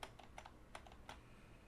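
Keystrokes on a computer keyboard during a speedrun of Pokémon Crystal, about four short clusters of quick clicks in an uneven rhythm, fairly faint and close, with no talking.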